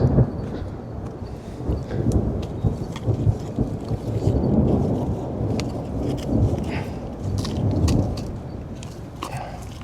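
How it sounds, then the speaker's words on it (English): Deep, rolling thunder rumbles continuously over a sunflower garden, a low booming roar with faint crackling like rain on top, no voices. "You hear the thunder rumbling."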